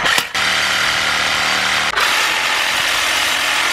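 A bladed power tool cuts through a seized, hard-to-reach bolt on a Blazer, giving a loud, steady buzzing grind close by, with two brief breaks as the blade pauses and bites again.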